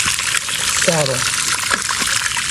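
Water gushes steadily out of a dented plastic water tank in a constant rushing stream, while someone speaks briefly over it.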